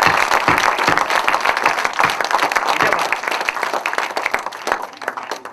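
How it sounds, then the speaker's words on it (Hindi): An audience applauds children at a literary gathering with dense, sustained clapping from a large crowd that stays loud throughout and then tapers slightly toward the end. "मैं चाहता हूँ कि इन बच्चों के लिए दिल से तालियां एक बार बजाइए"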